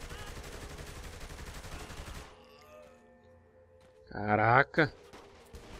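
Pistol shots in Saints Row: The Third crack in a dense, steady stream during the first two seconds, then stop as someone speaks briefly over quiet game sounds.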